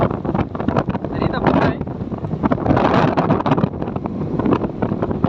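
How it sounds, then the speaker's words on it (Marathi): Strong wind blows across a mountain pass (ghat) in Akole taluka near a temple, a steady loud broadband rush buffeting the microphone throughout, with gusts swelling around the middle. "भरभराचा वारा सुटलेला आहे"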